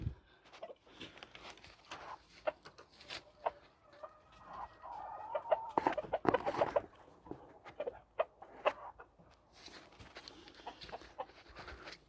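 Johnny Jumper Kelso gamefowl chickens clucking softly in a morning farmyard, scattered short calls rising in a busier burst midway, fairly faint, with no one speaking.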